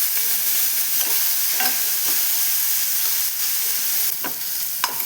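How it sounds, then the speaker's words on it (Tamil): Onions and green chillies sizzle in hot oil with a continuous hiss, broken by a few sharper clinks and stirs in the pan. "எண்ணெய் சூடானதும் வெங்காயம் சேர்த்துக்கலாம். கூட 2 பச்சை மிளகாய் சேர்த்துக்கலாம்."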